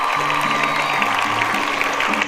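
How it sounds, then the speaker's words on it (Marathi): Applause rings out for three schoolgirl students called up to the stage at a school event, a dense, steady wash of clapping with a tonal hum and scattered voices running beneath it. "आपण जोरदार टाळ्या वाजून त्या तिन्ही विद्यार्थिनींचं अभिनंदन करणार आहोत"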